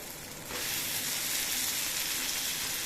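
Cut eggplant sautés in a pan, starting as a quieter sizzle and swelling after a moment into a loud, dense, steady hiss of frying that carries on to the end.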